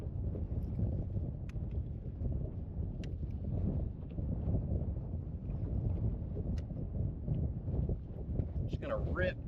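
Shifting summer wind blows across a fishing boat, a constant low buffeting rumble right against the microphone, with a brief voice rising near the end.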